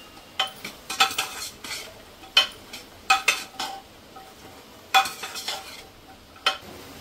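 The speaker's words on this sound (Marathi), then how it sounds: "हलवून घेऊया।" Spoon stirring masala with ginger-garlic paste in a metal pan, a quiet close series of irregular scrapes and clinks in short bursts over a faint background sizzle.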